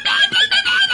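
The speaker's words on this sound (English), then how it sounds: "When you have all these birds, they get loud." Loud, harsh squawks from pet birds, several shrill calls in quick succession, close by and piercing.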